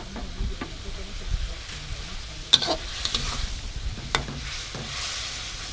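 Betong noodles are stir-fried in a pan with a soft sizzle, and a few sharp scrapes and clinks of the utensil against the pan break through at irregular intervals.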